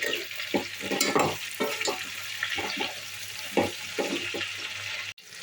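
Eggplant pieces frying with salt in a pan, stirred with repeated scraping strokes over a steady close sizzle, no voices.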